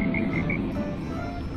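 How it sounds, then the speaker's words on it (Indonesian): A frog croak plays from an Android phone: a loud, close burst of rapid, raspy croaks at the start, then a quieter murmur of background noise. "Bunyi kodok bro."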